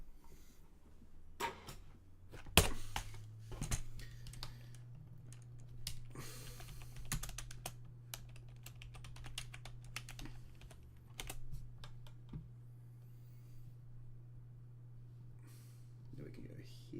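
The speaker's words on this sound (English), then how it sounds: "type better with the keyboard." Computer keyboard keys clatter in irregular bursts during a session of the Euro Truck Sim 2 trucking game, with a steady low hum underneath. A person talks quietly at times.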